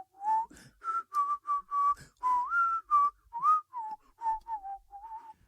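A man whistles Disney tunes solo, a clear melody of short, bright phrases with small pauses between notes, close and unaccompanied.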